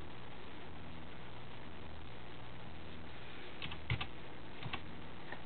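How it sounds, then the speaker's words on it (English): Quiet typing on a computer keyboard while entering a web address, with a few sharper key clicks near the end of an otherwise faint, steady patter. "So if I type in Facebook, for example"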